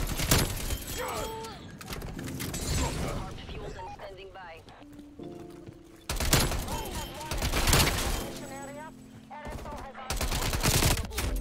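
Gunfire in Call of Duty Cold War, rapid automatic bursts crackling in clusters across the clip, loud and close, with a player talking over the shooting between volleys.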